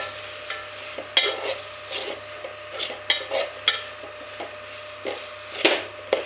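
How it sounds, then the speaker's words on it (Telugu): Sliced onions coated in turmeric are stirred in a frying pan, giving a run of quick scraping strokes over a faint sizzle, close and moderately quiet with no talking. "బాగా అన్నిటికీ పట్టేలా, అన్ని ఉల్లిపాయలకి పట్టేలా పసుపు బాగా మిక్స్ చేయాలి."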